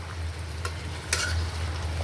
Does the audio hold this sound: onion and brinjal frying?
yes